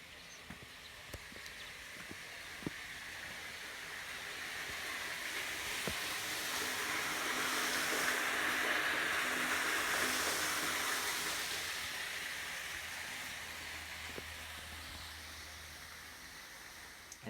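The Toitū stream rushing unseen beneath a city street, a faint broad wash of flowing water heard through manhole covers, swelling gently in the middle then easing, with scattered distant clicks and bumps.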